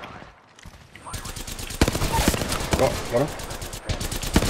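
Rapid automatic gunfire in Apex Legends during a ranked match, a loud, close stream of shots that starts after a quiet second and keeps going, with a player briefly talking over it.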